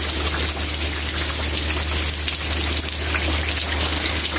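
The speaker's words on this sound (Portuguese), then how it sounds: "Tá muito, muita chuva. Nossa, olha só a poça que formou aqui. Que chuvarada." Heavy rain pours steadily outdoors, splashing into puddles with a dense, constant hiss and patter, close and loud throughout with no voices.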